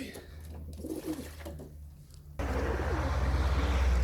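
Pigeons bathing together give soft cooing calls amid light splashing and background noise, with a louder, denser wash of sound in the second half.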